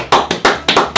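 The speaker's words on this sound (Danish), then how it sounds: "Skal vi have en klap sammen?" Short bursts of hand clapping from a small audience at a Christmas quiz show, a few sharp close claps in quick succession.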